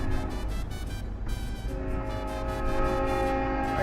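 A train rolls alongside a vehicle on a Mexico road trip, a loud continuous rumble with rhythmic rail clatter and a sustained horn-like tone near the end.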